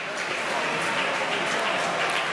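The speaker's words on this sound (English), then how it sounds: "Rovers fans give a round of applause as he walks around the field." Doncaster Rovers fans in a football stadium applaud an injured player leaving the pitch, a dense, continuous wash of crowd clapping heard from a distance.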